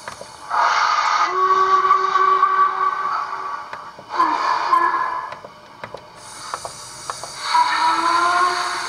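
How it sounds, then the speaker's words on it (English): A model locomotive sound decoder sounds three long, loud horn blasts with pauses between them, accompanied by a faint hiss and small clicks. "I quite like the horns on this class of locomotive. So I'll play a couple."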